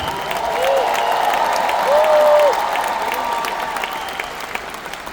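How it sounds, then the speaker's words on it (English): An audience at a Tim Storey event in Edmonton gives sustained applause and cheering, a thick wash of clapping that swells and then eases slightly, with occasional whoops. "Come on, a big clap."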